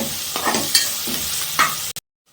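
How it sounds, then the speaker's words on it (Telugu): Onions with a pinch of salt frying in a pan, a loud close sizzle with stirring scrapes that cuts off abruptly into silence near the end. "ఆనియన్స్ వేగుతున్నాయి"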